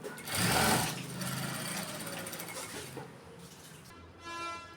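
A sewing machine runs a straight seam on a silk blouse jacket, through the lining only. It whirs in a loud burst at first, then hums more steadily, with a short higher tone near the end.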